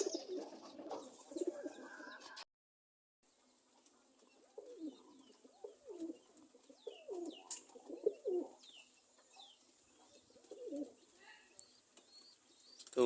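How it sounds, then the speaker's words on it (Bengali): Giribaz pigeons coo softly in a loft, low rolling calls repeating at intervals with a brief dropout near the start and some faint chirps above. "আর গিরিবাজের পায়রা এটা আমার।"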